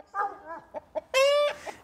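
Chickens cluck and squawk nearby in a few short calls, ending in a louder drawn-out cackle, with no talking over them.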